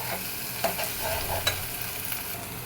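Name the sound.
fish pieces frying in a pan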